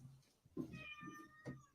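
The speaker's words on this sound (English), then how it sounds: "Can you hear the cat meowing on my right?" A senior cat meows close by, three short, plaintive calls in quick succession within two seconds, quiet and alone.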